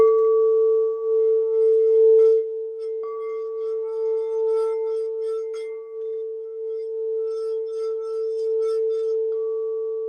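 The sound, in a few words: 8-inch crystal singing bowl struck with silicone-covered glass striker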